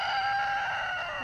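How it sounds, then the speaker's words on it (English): A ranch rooster crows loud and close, one sustained harsh call that slowly fades, heard alone. "that rooster has attacked her"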